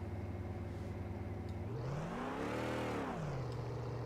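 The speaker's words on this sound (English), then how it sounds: "here is the engine sound for one of the cars" A steady car engine hums, then revs up into a rising whine and falls back to idle, with no talking.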